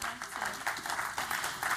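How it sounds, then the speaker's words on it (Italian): Steady applause from a crowd at a music festival evening, dense clapping with a few louder swells, filling the whole moment without any voices standing out. "Nel frattempo facciamo un grande applauso."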